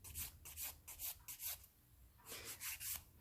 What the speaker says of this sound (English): I've switched to the finer side of the nail file because I'm being careful with my own natural nail plate